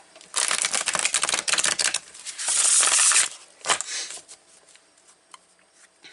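Tarot cards are shuffled in quick riffling bursts, close and crisp, with a pause midway, another long riffle, then a few softer taps and card slides trailing off.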